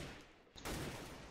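Rapid bursts of gunfire trade back and forth in a Counter-Strike match, faint and distant at first, then swelling into a denser, louder volley with no voices.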